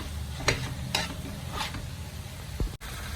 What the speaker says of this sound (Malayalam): വെള്ളം വറ്റുന്നവരെ നന്നായിട്ട് വറുത്തിയെടുക്കാം